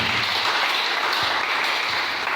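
Church congregation breaking into sustained applause to acclaim the Lord, a dense, steady roar of many hands clapping at close range for a couple of seconds with no talk over it.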